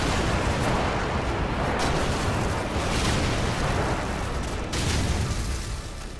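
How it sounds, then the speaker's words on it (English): Airstrike explosions in Call of Duty: Modern Warfare roll together into a loud, continuous rumbling barrage with slight surges, and no voices are heard over them. "Please don't kill me with that airstrike"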